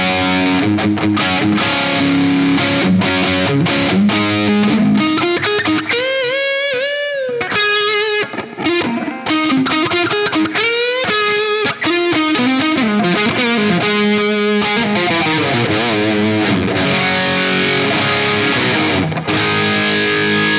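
An electric guitar plays through an amp with no boost and only reverb on, loud, sustained, slightly distorted notes and slides ringing out alone.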